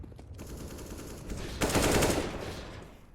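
Gunfire in a Counter-Strike: Global Offensive match: rapid automatic bursts crackle from a distance, then a louder, denser volley swells near the end before tapering off.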